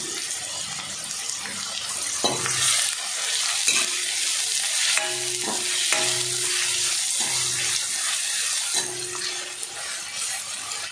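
Steady sizzling of onions and curry leaves frying in hot oil, with occasional stirring scrapes and clinks over the continuous crackle.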